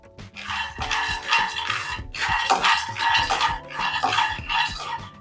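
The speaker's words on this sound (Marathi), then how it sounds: "लो टू मिडियम फ्लेमवरती आपल्याला छान खरपूस अशा शेंगा ज्या आहेत त्या भाजून घ्यायच्या आहेत" Peanuts dry-roast in a pan over low to medium flame, producing a dense continuous rattle and scraping as they are stirred, with rhythmic surges of clattering throughout.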